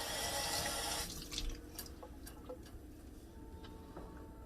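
Tap water runs loudly into a sink for about a second as food is rinsed for a keto kielbasa and cabbage dish, then stops, leaving scattered drips and small clinks.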